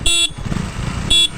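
A KTM Duke and a Yamaha MT15 ride on a road: two short, bright horn beeps over a low, rumbling motorcycle engine in between.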